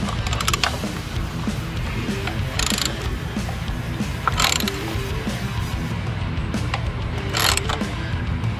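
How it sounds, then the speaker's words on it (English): A hand ratchet snugs an oil filter on a Harley Ultra Limited during a fluid change, giving short bursts of crisp, close clicking at irregular intervals over a steady low background rumble. "I'm going to use my tool and I'm just going to snug it up."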